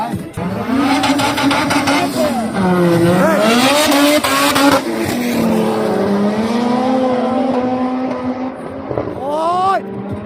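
A Honda car launches at an old-school drag race with loud engine revving, rising and falling pitch and tire squeal, while spectators talk over the noise.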